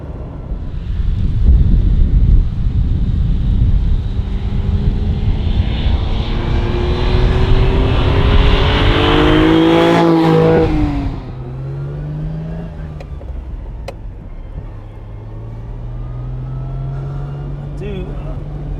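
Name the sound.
Ferrari Dino 246GT car being driven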